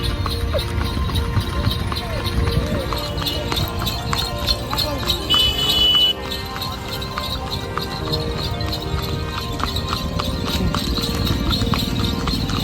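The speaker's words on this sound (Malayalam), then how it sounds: "അതുകൊണ്ട് എല്ലാവരും കുതിരവണ്ടിയിൽ പോകാമെന്ന് വിചാരിച്ചു." Horse-drawn cart on a day trip to Palani, the horse's hooves clip-clopping in a steady rhythm close by, mixed with street noise and people talking throughout.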